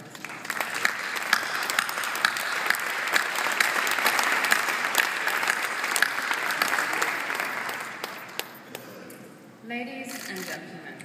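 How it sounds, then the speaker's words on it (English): Sustained applause from the audience at a Red Ribbon Award ceremony rolls on for about nine seconds, loud and dense with sharper individual claps, then dies away as a voice begins speaking. "I would like to give a little applause to Michelle for his incredible work"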